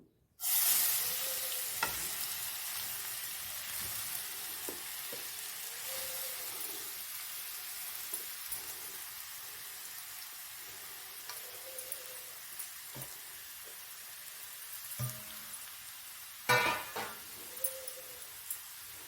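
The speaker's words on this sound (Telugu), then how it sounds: "ఈ నేతిలో ఈ క్యారెట్ తురుము బాగా వేయించుకోవాలి" Grated carrot sizzles steadily in hot ghee in a pan for carrot halwa, with occasional louder crackles and stirring scrapes, close and continuous, with no one talking.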